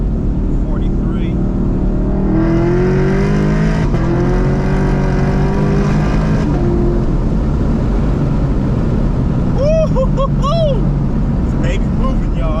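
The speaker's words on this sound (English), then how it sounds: "I'm taking the car through different RPM bands and holding it there so that they can get a better read on everything going on" A Procharger-supercharged car engine revs and holds steady through different RPM bands, a loud sustained drone with rising pitch sweeps, heard from inside the car with a person talking over it.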